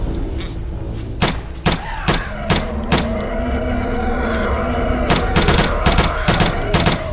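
Rapid bursts of video game gunfire, loud and close, with single shots and short automatic volleys over a constant droning engine hum in a flying saucer game.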